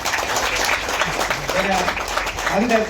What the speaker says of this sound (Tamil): கொஞ்சம் நல்லா கைத்தட்ட கொடுங்க.